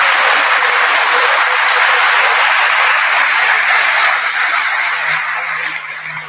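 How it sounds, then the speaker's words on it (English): Loud, close applause at a high school graduation ceremony, a thick, uniform burst of clapping that holds steady for several seconds and then starts to thin and fade toward the end. "please give a round of applause for everybody who worked so hard to bring us"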